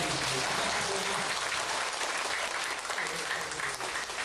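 A crowd claps warmly at a Taiwanese folk orchestra performance with children in the ensemble, a dense continuous roar of applause holding steady throughout.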